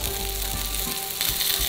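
Meatballs sizzle and fry steadily in a pan, a continuous dense crackle at close range with no talking over it.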